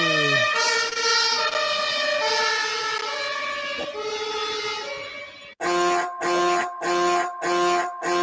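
Ambulance siren wailing loudly and close, first a long rising and falling tone, then a rapid pulsing yelp, heard alone without talk.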